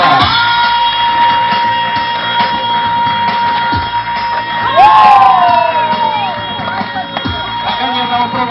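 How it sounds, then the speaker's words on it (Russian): At a children's show, an audience cheers, shouts and whoops loudly in a continuous crowd roar, with high children's voices rising above it. "Выражайте их активнее в виде аплодисментов, криков, ура и всего остального."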